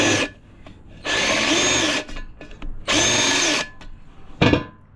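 A power tool chamfering the inside edge of a beadlock wheel rim, with three loud, close grinding bursts of about a second each and short quieter pauses and small clatters between them.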